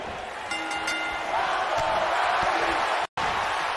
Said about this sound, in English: Crowd is cheering for Ronda